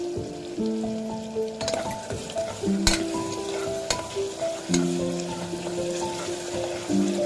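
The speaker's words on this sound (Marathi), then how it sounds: "थोडंसं मीठ टाकते कारण थोडं टोमॅटो शिजवून घेऊया आपण।" Tomatoes cook in a pan with salt, making a steady close sizzle and frying crackle with occasional stirring scrapes, and no talk over it.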